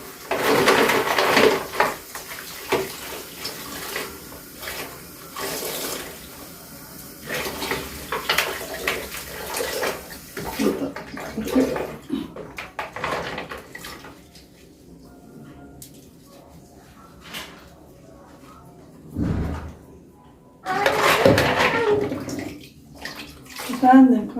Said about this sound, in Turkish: Bir tane süngerimle yıkayayım bakalım nasıl. Sıcak suyla yıkayayım.